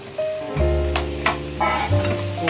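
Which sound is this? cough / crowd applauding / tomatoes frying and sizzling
tomatoes frying and sizzling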